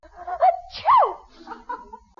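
A single sharp sneeze bursts out near the start, followed by a few softer vocal sounds and breaths.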